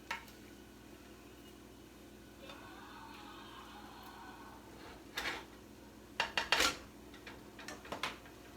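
Cranberry popcorn stirred in a pot, with a low background hum and a few sharp clinks and scrapes of a utensil against the pot in short bursts near the end.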